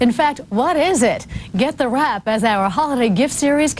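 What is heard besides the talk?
No distinct noise like a dog, phone or traffic.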